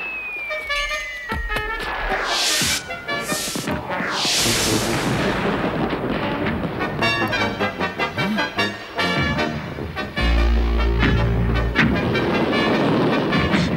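Cartoon artillery barrage in an animated Prisoner of Zenda film: a falling whistle, then repeated booming bursts and rumbles layered over busy orchestral music, loud and dense throughout.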